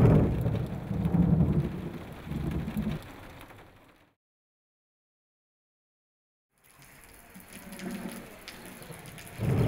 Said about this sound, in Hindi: बारिश इस साल वक्त से पहले ही आ गई है।